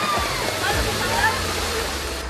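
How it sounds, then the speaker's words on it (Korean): A waterfall pours into a natural swimming pool in Luzon, Philippines, producing a steady, full rushing roar of falling water, with a voice talking over it. "시원하게 쏟아지는 폭포와 적당한 수심 덕에 물놀이하기 딱 좋은 이곳."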